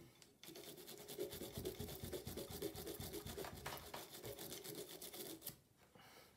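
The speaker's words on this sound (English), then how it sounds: "we're gonna use the big part and scrub even more" Brush scrubbing the extractor of a Sig Sauer P365 pistol during cleaning, a quiet close continuous rapid bristle scrape with a fast back-and-forth rhythm, alone with no talk.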